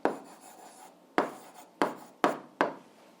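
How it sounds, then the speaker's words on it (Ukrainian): A pen writes an algebra answer by hand on paper, with five short scratchy strokes, each with a sharp start that fades, close and alone. "Пишемо так."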